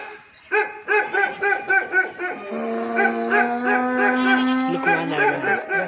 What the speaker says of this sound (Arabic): كلب يا جماعة عاوز ياخدها مني.